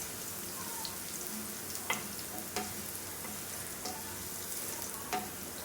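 Garlic sizzles in a pan with steady broadband frying hiss, broken by a few soft scraping stir strokes at irregular intervals; close and fairly quiet, no voices.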